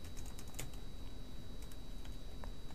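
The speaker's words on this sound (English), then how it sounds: "we'll type in our three variables" Steady, rapid typing on a computer keyboard while entering code for a Unity multiplayer project, close and continuous with dense key clacks throughout and no talking.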